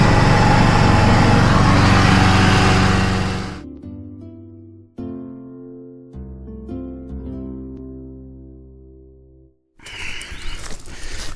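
A Husqvarna lawn mower engine runs loud and steady for several seconds, cuts off into a stretch of quieter tonal sounds, then starts up again near the end.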